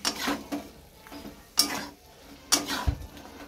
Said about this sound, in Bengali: আর এখানে চিকেনটা হচ্ছে